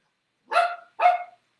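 A dog barks twice in quick succession, close and clear, with silence around each bark and no other sound.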